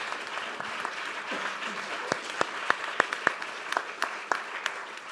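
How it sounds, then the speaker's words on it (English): An audience at a fisheries and aquaculture event applauds a panel, a sustained wash of clapping with several louder, sharper claps close by toward the end. "So a big round of applause for our panel"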